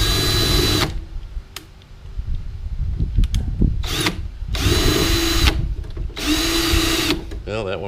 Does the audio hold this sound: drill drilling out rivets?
yes